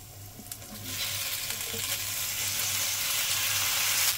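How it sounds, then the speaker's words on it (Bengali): Pasta added to a hot pan bursts into a loud, building sizzle that swells after the first second and holds steady, with faint stirring scrapes and a low hum underneath. "যতক্ষণ না হয় ততক্ষণ আমি এটা নাড়তে থাকবো"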